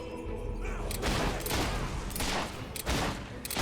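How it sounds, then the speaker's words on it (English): Mortars fire in the Fable 3 video game, a series of heavy booming blasts roughly every half second to second, loud and close, with rumbling tails and no talking. "You've used one of those mortars before. How about you blow up this one?"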